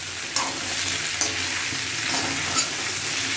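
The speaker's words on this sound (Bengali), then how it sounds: "এবার এর মধ্যে আলু আর পটলগুলো দিয়ে দিলাম, দিয়ে খুব ভালো মতো নাড়তে হবে অল্প আগে" Potatoes and pointed gourd frying in a pan, a steady broadband sizzle with a few sharp spatula scrapes while the vegetables are stirred, close and fairly loud with no talking.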